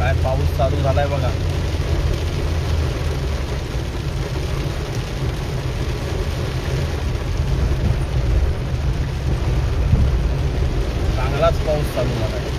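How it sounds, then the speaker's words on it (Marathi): Heavy monsoon rain pours steadily at Dajipur near Radhanagari in Kolhapur, making a loud, unbroken roaring hiss throughout, with faint voices buried underneath. "चांगलाच पाऊस चालू झालाय"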